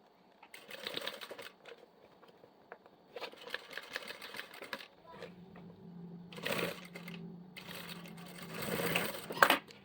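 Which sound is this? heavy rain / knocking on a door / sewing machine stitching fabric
sewing machine stitching fabric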